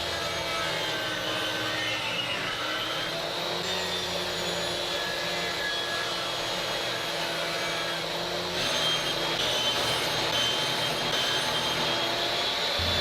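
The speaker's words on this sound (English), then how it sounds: "Now with that freshly jointed edge against the table saw fence, we'll rip these pieces down to width." A table saw rips wooden pieces to width in a woodshop, its steady broadband whine and cutting rasp running continuously for the whole stretch and getting slightly louder near the end, with no voices.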